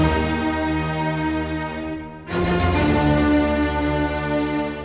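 An orchestra plays the opening motif of Beethoven's Symphony No. 5 as two long, loud held notes, each lasting about two seconds, with a clear attack where the second note starts.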